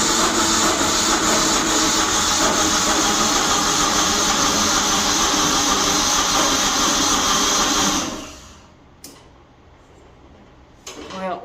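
A light tower generator engine, low on fuel and with a leaking fuel hose, runs at a loud, steady drone for about eight seconds, then cuts out, leaving near silence broken by a few faint clicks.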